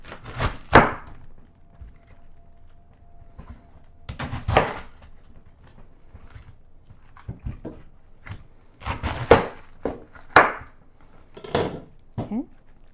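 Knife cutting a cabbage into quarters on a wooden board, with several distinct heavy chopping thunks spaced apart by quiet pauses, close and fairly crisp.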